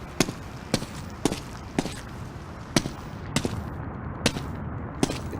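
Indoor ambience bed for a Unity game level, a steady low room tone with a string of sharp, evenly spaced impacts, roughly one every half second, standing out clearly above it.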